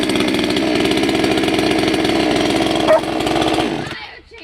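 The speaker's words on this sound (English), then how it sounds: "Fire chainsaw is so loud" A $130 chainsaw bought from Amazon with a 20-inch bar runs loudly at a steady high buzz for several seconds, then quickly winds down to silence.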